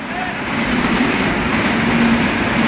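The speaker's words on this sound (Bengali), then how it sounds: "আজকে কি খেয়ে পেয়ে ট্রেন আসছে নাকি" A train rumbles past with a steady, loud roar and faint clattering throughout, alone with no talk.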